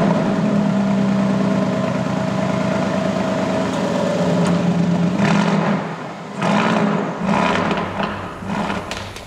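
A 2019 Aston Martin Vantage engine runs at a steady, throbbing idle, then blips and revs in a few sharper bursts near the end, heard up close with no voices.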